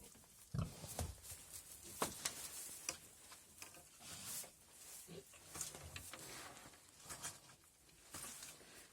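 A pig eats beet close by on a farm, with wet crunching, chomping and soft snuffling grunts in an irregular rhythm, faint and steady.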